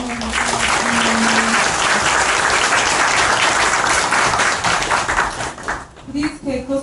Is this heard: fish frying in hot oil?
no